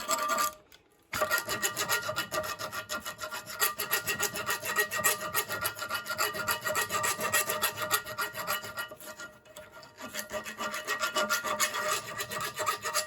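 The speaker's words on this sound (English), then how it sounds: "You can just use like a rat tail file and just file those down." A rat tail file rasps burrs off a steel U-joint yoke from a Chevy Silverado 2500, in steady rhythmic back-and-forth strokes, close and alone, with brief pauses near the start and later on.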